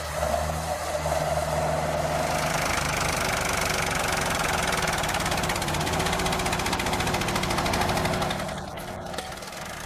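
Heavy machinery engines roar and rumble continuously during a recovery in deep mud, with a rough, knocking texture, loud throughout and easing slightly near the end, with no voices.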